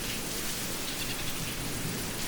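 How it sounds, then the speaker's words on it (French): Heavy rain pours in an audio drama, a dense, continuous hiss of downpour that stays even and steady with no voices over it. "Il pleut comme vache qui pisse"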